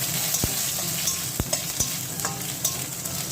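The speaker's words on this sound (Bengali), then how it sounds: "আগে রসুনটা একটু ভাজা ভাজা হোক, তবে সুন্দর গন্ধ আসবে।" Garlic frying in oil with bay leaf, a steady close hiss of sizzling broken by a few sharp clicks and taps of stirring.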